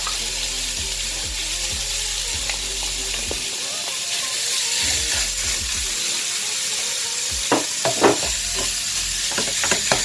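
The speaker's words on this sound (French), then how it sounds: "une fois que les oignons sont bien revenus, je vais rajouter la viande hachée" Minced meat sizzling loudly in a pan with well-browned onions, stirred repeatedly with scraping strokes over a steady hiss of frying, close up and without speech.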